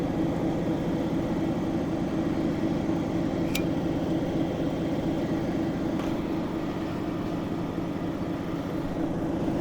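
A lapidary wheel grinds a red Lake Superior agate cabochon, a steady, loud motor drone with a constant low hum and rough whir that runs unbroken throughout.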